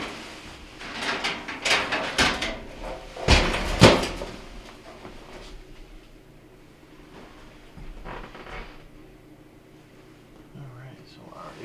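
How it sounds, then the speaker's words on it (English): An oven storage drawer on a Whirlpool gas stove is pulled out, giving a few rough sliding scrapes and knocks close by, then quieter handling and faint clunks. "I'm going to pull out the drawer now."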